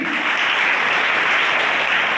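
Sustained audience applause for students at a police-organized school event in Goghat, a dense steady clapping from many hands filling the space, loud and even throughout with no voices.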